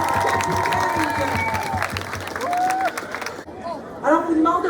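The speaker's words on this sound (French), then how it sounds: "Une bonne main d'applaudissements pour notre capitaine." Applause and crowd noise at a high school hockey pep rally, a dense burst of clapping and cheering that fades midway, with talking over the noise near the end.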